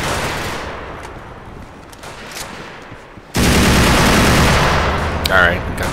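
Gunfire in GTA IV during a SWAT police scenario with bystanders around, a dense rumbling barrage that swells suddenly loud halfway through and stays continuous.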